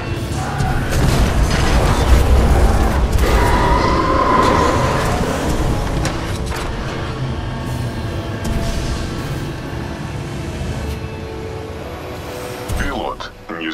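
Heavy rumbling explosions and metallic clanking from the video game Titanfall 2, loud and sustained with deep low-end booms through the first half, then a dense, churning industrial din that slowly eases, with voices speaking over it.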